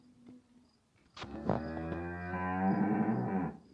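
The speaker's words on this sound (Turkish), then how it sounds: "Acıkmış inekler, acıkmış." Cows in a barn give a long, loud moo that swells and holds for about two seconds, close by, after a brief quieter stretch with faint rustling.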